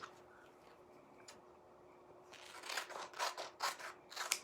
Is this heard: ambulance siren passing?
no